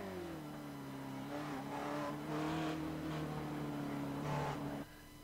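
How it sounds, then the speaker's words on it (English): An SRF race car engine at Bathurst in iRacing drones steadily with harmonic whine, rising and dipping in pitch as it sputters and revs, with brief bursts of tire noise. "We hear the car kind of sputtering."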